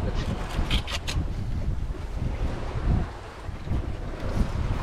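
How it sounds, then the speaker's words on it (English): Headwind and waves batter a sailboat at sea as night falls against an opposing current. Wind roars in a continuous rush with a low, churning wash of water and a few sharp slaps near the start. "The wind was coming right down on our nose, and the opposing current was making for a slow and bouncy ride."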